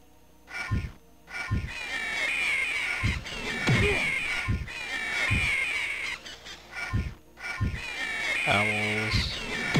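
Hooting, screeching owls attacking in the fantasy dungeon game Anvil of Dawn, repeated bird cries over game music and effects, with someone talking throughout.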